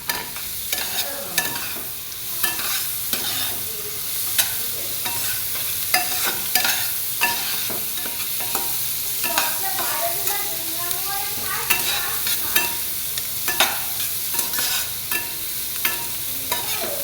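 Small whole tomatoes and onions fry in a pan and are stirred. A continuous loud sizzle runs under repeated scraping and clinking of a spoon against the pan, and no one speaks.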